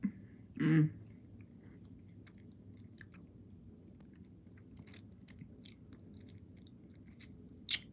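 Close, wet chewing of gum, one loud bite near the start and soft, irregular mouth clicks and smacks after it, with a second sharp crunch at the very end and no talk.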